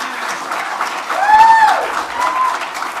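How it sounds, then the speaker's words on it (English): Applause from the audience at a city council meeting, a steady mid-level patter that swells in the middle and then eases, with a few sustained whistle-like tones rising over it. "I would like to begin tonight by applauding Judy."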